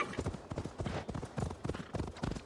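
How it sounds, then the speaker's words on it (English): Steady clip-clop of horse hooves in Assassin's Creed Valhalla at a quick trotting rhythm, close and fairly soft, with no talking. "Jump back on the horse."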